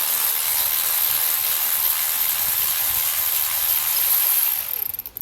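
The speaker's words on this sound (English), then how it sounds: "The cordless ratchet come in handy." A cordless ratchet spins out a long water pump bolt on a 2007-2011 Toyota Camry 2.4, with a close, loud, steady mechanical whir that runs continuously before stopping abruptly with a few clicks at the end.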